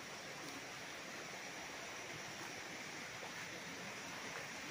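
A clear creek flowing among large bamboo on a farm lot in Lucban, Quezon, on a rainy day; steady, faint, broadband rushing water with no break.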